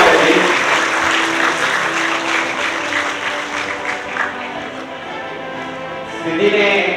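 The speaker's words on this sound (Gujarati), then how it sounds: "જોરદાર તાળીઓ રહે સિદ્ધિએ માટે." Sustained applause from an audience at a student award ceremony honoring a top-scoring pupil, dense broadband clapping holding steady for seconds with a faint voice underneath.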